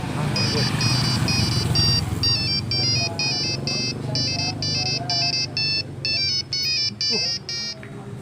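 A telephone ringtone plays a repeating electronic melody of short bright notes in bursts, loud and close over a steady low background rumble.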